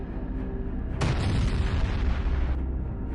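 An artillery shell bursts near a village during a tank assault, one loud sudden boom that rolls on as a sustained rumble, heard against constant low background noise.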